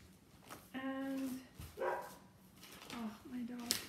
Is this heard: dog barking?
yes